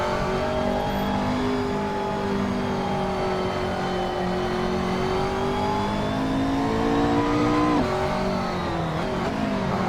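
McLaren race car engine in the Assetto Corsa racing game, a steady high-pitched howl held near full throttle with a slight pitch shift near the end, loud and continuous with no talk.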